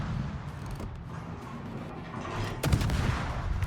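Destroyer naval guns fire high-explosive shells in World of Warships, a steady low rumble of battle swelling into a louder burst of rapid reports near the end.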